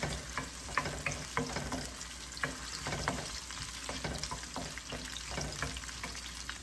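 Onions fry with a constant close sizzle in a pan, broken by irregular clicks and scrapes of stirring, with no voices over it.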